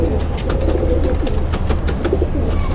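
Racing pigeons in a cage coo repeatedly and flutter close by, a dense, continuous murmur of soft throaty calls.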